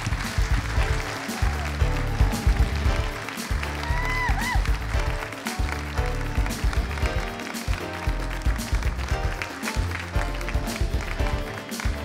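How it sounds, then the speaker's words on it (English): Audience applause for Miss Universe New Zealand 2014 at a pageant grand final: sustained clapping from a sizeable crowd with thumping music underneath, and a few brief voices over it. "a warm round of applause, a big round of applause for Miss Universe New Zealand 2014"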